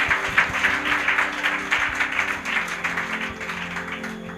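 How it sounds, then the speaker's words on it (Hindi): Audience applause fills a church, many hands clapping in a brisk, steady patter that carries on evenly with slight swells, moderately loud throughout. "एक जोरदार ताली सभी के लिए"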